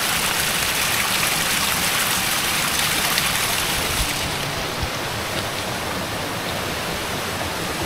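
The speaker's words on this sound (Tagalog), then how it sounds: "Grabe ang lakas ng tubig ngayon oh." Strong, rushing stream water roars steadily and loudly, a dense continuous wash of noise with no pauses.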